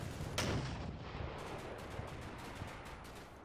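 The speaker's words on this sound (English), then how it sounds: "I heard some of that artillery come down" Artillery shells land in a Combat Mission: Battle for Normandy battle, with one sharp, loud blast early on followed by a rumbling wash of distant, repeated thuds and crackles.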